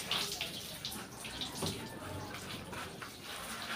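Hose water splashing and running over a car as soap is rinsed off while the body is wiped down, fairly quiet and continuous, with scattered splashes and drips.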